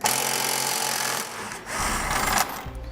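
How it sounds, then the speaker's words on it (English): A socket tool spins out the 17mm tow hook bolts on a 2017 Lexus RX 450h. It makes a loud, close, continuous whirring rattle that dips briefly in the middle before resuming. "It's going to be held on by 2 17mm head bolts. So we can grab that socket and pull them out."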